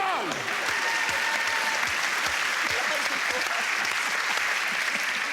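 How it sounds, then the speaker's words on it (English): Studio audience on a British TV comedy panel show applauding, a dense, steady clatter of many clapping hands that holds loud and close for several seconds, with a few cheers mixed in. "a round of applause for these two, though"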